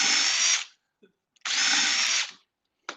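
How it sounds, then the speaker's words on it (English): A power drill boring pilot holes for screws runs in two loud bursts of about half a second each, separated by quiet, with a short third start at the end. "So we're just drilling some pilot holes for screws."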